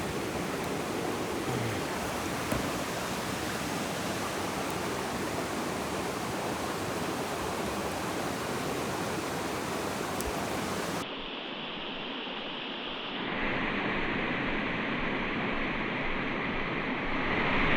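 A small waterfall on a New Hampshire brook trout stream roars in a steady, broadband rush of falling water, loud and continuous, with a brief change in tone partway through.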